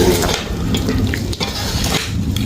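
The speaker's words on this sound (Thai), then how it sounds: "แล้วก็ผัดให้เข้ากัน" Snakehead fish being stir-fried with southern curry paste, kaffir lime leaves, chilies and fresh peppercorns, a loud continuous sizzle with the scrape and clatter of a spatula in the pan, close up.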